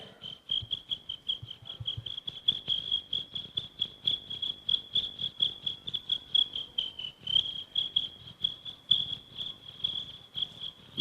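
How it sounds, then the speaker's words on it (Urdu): A cricket chirps steadily in a quiet room, a continuous high pulsing trill that runs the whole time, fairly faint and alone, with no talking. "یہ جھینگر صحیح نہیں ہے بھائی."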